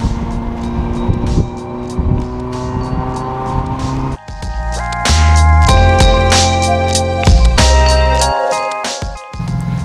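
A car is heard close up driving at speed, its engine and road roar loud and continuous, with shifting engine tones and rattling from the body.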